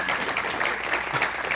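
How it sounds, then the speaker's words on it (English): An audience claps steadily, a dense, continuous round of applause with no voices standing out. "Give them a round of applause as they're seated."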